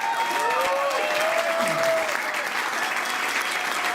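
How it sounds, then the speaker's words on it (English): Crowd applause at a Latinos for Kaine and Obama political rally in Virginia, steady clapping filling the room from start to finish, with a brief tonal whistle or squeal drifting over it near the start. "Give him a big round of applause."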